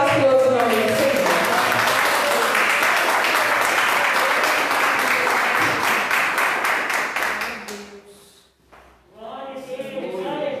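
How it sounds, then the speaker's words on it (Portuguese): Church congregation applauding during a worship service, a sustained wash of clapping for about eight seconds that fades out, followed by a speaking voice. "Vamos dar as palmas para o outro nome do Senhor."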